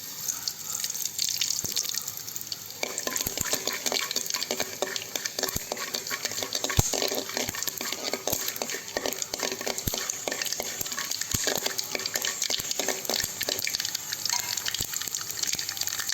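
Chana dal and mustard seeds fry in hot oil with a steady, loud hiss and crackle, scattered sharp pops over a constant sizzle, close by.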